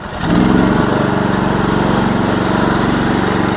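A small Briggs & Stratton engine on a Chinese mini excavator cranks and catches, then settles into a steady, loud, close chugging run with no voices.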